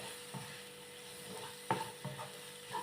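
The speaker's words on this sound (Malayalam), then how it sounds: "നമ്മൾ ഇങ്ങനെയൊക്കെ ഫ്രൈ ചെയ്താൽ മതി" Spices, coriander powder and soybeans frying in a pan for a mappas curry, a low steady sizzle with a few soft spoon scrapes and clicks stirring through it.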